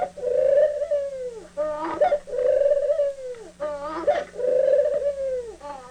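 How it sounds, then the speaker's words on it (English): A ring dove repeats its bow coo three times, each a sustained low cooing note that bends downward, separated by short breathy clicking sounds, recorded close and clear over faint background hum. "there's been no alteration in the ringdove's vocalization"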